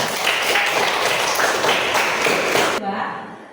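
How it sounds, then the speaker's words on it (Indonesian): Clapping hands from an audience at a religious education class session, dense broadband applause filling the clip before cutting off abruptly near the end into a quieter room. "Iya, tepuk tangan."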